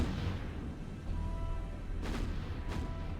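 Naval gunfire in the War on the Sea video game, heard as two faint distant booms with a low rumble of battle beneath them.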